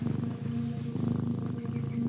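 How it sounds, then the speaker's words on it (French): A cat purrs close up, a steady rhythmic rumble with short breaths between cycles, heard alone with no talk. "Ton ami le chat se faufile entre tes jambes en ronronnant."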